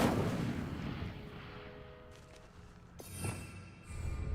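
An Incendio fire spell is cast in the video game Hogwarts Legacy, a low rumbling whoosh that fades, followed by a crackling burst and a second thud, all fairly faint.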